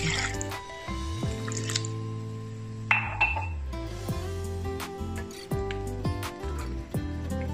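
Water is poured into a cooking pot of dinuguan (pork blood stew), dripping and splashing softly amid faint clinks and a steady background hum.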